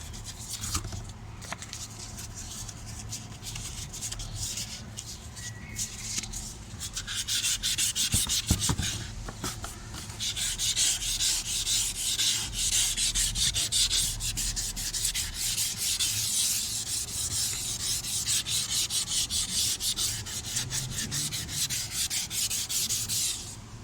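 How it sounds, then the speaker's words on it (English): Car headlight being wet sanded by hand with 800 grit sandpaper: continuous close, rapid gritty rubbing strokes that carry on steadily throughout, slightly more intense after the first ten seconds, with no talking. "doing the sanding and wetting the headlight. So the first one I'm going to start off with is the 800 grit."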